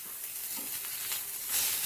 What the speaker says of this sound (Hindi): टमाटर डाल के सॉफ्ट होने तक फ्राई करूँगी।